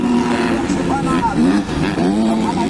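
A motocross motorcycle with a sputtering, misfiring engine revs at an INTER PRO 250 race in Lantapan, Bukidnon, its rising and falling whine running under loud, continuous announcer commentary.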